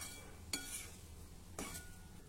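Wheat flour dough and dry fruits roast in ghee in a pan for jaggery gum sweets, a soft steady sizzle with two distinct scraping stirs, near and fairly quiet.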